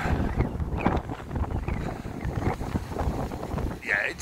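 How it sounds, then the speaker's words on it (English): A cold wind blows on the Blackpool promenade, buffeting the microphone with a low, gusty rumble that stays near and fairly loud throughout, with faint background voices mixed in. "It's blowing, it's cold."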